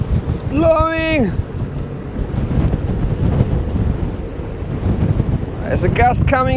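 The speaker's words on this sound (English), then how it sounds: "There's a gust coming in now." Wind gusts roar across the microphone aboard a sailboat out on a fjord, a loud broadband rush mixed with water sounds, while a voice whoops briefly at the start and again near the end.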